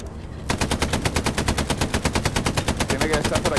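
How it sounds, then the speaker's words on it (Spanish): Sustained machine gun fire in the World War II shooter Hell Let Loose, a loud, steady stream of evenly spaced rapid shots close by, running almost nonstop after a short quiet start. "Dispárale a la infantería"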